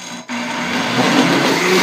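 Electric blender whirring steadily as it mixes cold milk with chilled pudding ingredients, a continuous loud motor drone that starts after a brief pause and holds alone throughout.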